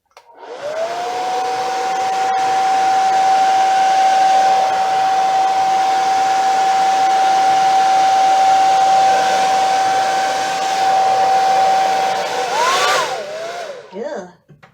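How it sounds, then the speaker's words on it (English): A hair dryer used on an acrylic pour painting blows steadily and loudly for most of the time, its motor whine holding one pitch before it shuts off near the end. "you don't want to blow it too much with the hairdryer"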